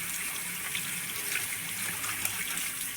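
Tap water runs steadily in a constant gush while an aquarium filter is washed out under it. The sound is moderately loud with small splashes and no voices.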